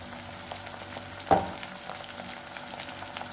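Onion, ginger, garlic, tomato and coriander paste fries with a faint steady sizzle, broken once by a single louder knock of a utensil.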